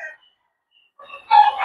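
Gamecock brood stag rooster crowing once, a brief early call followed by a louder, harsher cock-a-doodle-doo near the end, close and clear with no talk.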